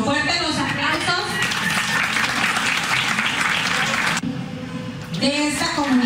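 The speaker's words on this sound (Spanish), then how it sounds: "Fuertes los aplausos" Audience applause fills a kindergarten graduation ceremony at the Miguel Lerdo de Tejada kindergarten in El Cerrito. It is a sustained, dense wash of clapping, with a voice talking over it at the start and again near the end.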